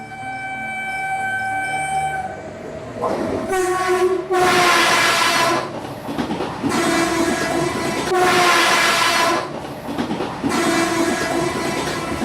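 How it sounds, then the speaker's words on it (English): Subway train roaring into a station: a loud rumbling approach followed by repeated blaring horn blasts over clattering wheels, close and dominating the scene. "the approaching train roared into the station"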